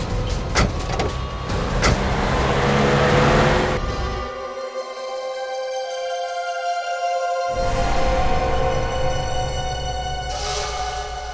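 A car door thuds shut and a vehicle engine hums and rises as it pulls away, with a broad roar of road and motor noise, fairly loud and close, no voices heard.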